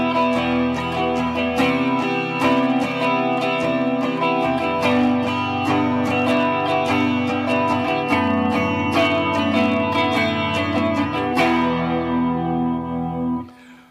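An electric guitar with heavy effects and distortion strums a slow sequence of sustained chords, ringing out and fading at the end.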